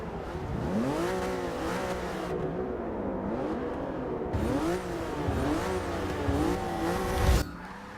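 Porsche race car in Forza Motorsport 6, its engine revving up and down in repeated swelling pitch sweeps with brief tire squeal, loud and close with no voices.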